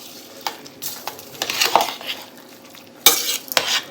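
Ghee-tempered cashews, cumin and pepper being stirred into broad bean rice pongal, a series of close, uneven spoon scrapes and clinks against the pot over a faint sizzle.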